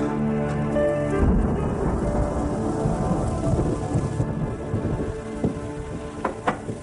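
Steady heavy rain pours down while thunder rolls and rumbles low, a full thunderstorm close by with a few sharper drips near the end.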